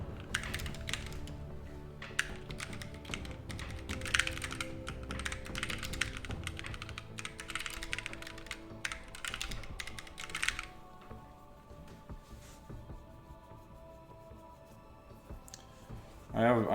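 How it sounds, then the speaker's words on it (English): Typing on a mechanical computer keyboard with quiet switches, keys pressed hard in dense bursts of clicking and clacking, close up, with some talk over it before the keystrokes thin out and a final loud clatter. "If I don't slam on my keyboard, like I be pressing them buttons hard"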